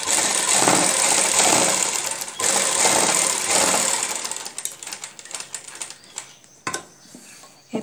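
Sewing machine stitching along a garment neckline over stiff buckram interfacing, a loud steady whir for several seconds that slows into short bursts and pauses.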